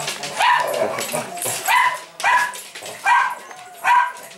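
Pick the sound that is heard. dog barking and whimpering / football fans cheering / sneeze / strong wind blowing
dog barking and whimpering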